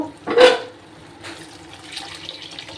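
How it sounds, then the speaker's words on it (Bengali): Water is poured into a pan of cooked-down spice paste while preparing tengra fish curry: a short splashing pour near the start, followed by quieter liquid bubbling. "তো এবার আমি পরিমাণ মতো জল দেব"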